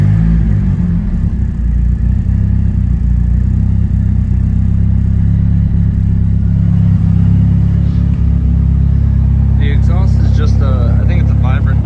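A 1990 Eagle Talon TSi AWD runs with a loud, close, deep rumbling idle through what may be a Vibrant muffler, a continuous throaty drone throughout, with a brief rattle near the end.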